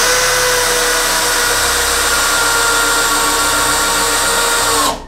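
Bosch GSB 185-LI cordless drill driving a 5x90 screw, a loud steady high-pitched motor whine held for nearly five seconds before stopping abruptly, close and alone.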